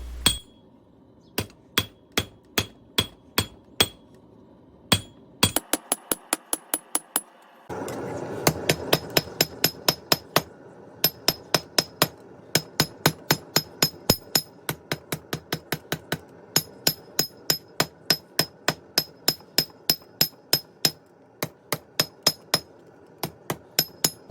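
A hammer beats metal on a flat surface while forging a wall hook, loud ringing strikes coming in quick, steady runs with brief pauses between bursts; no one speaks.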